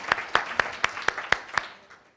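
About seven separate, evenly spaced handclaps come from a small conference audience after a prize winner is congratulated. The claps are sharp and fairly close, then fade out without talk.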